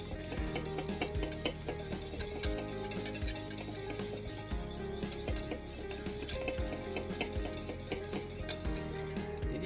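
Hollandaise sauce being stirred in a bowl set over boiling water, a steady scraping and clinking of the utensil against the bowl with a soft bubbling underneath, close and continuous with no talk.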